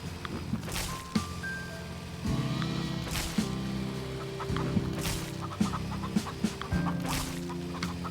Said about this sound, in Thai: อันนี้เป็นฟาร์มไก่ฟาร์มใหญ่